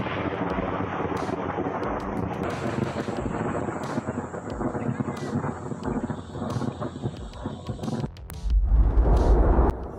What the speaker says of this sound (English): Lightning strikes a pole in the field, sending sparks everywhere.